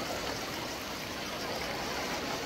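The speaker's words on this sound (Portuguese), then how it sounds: "Cachoeira." Waterfall heard as a continuous broadband rush of falling water, steady and fairly faint, with no breaks or other sounds.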